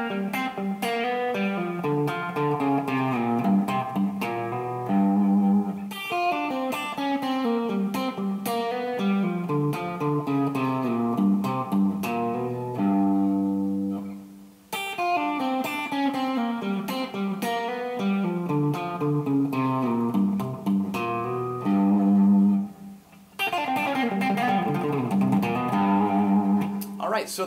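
An electric guitar plays a slow country lick built around open strings, the bright, ringing melodic phrase repeated about three times with brief pauses between passes.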